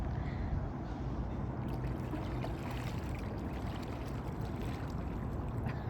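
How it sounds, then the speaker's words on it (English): A raft built from Crocs is paddled across open water, giving a steady wash of splashing and sloshing with faint strokes beneath, close and continuous with no talk. "I'm trying to find the best way to paddle."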